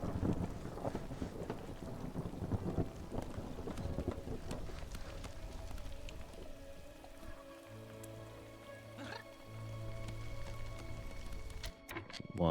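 Storm wind roars steadily in the video game Against the Storm, a broad noisy rush with low rumbles and scattered crackles, alone and fairly loud throughout, easing slightly toward the end.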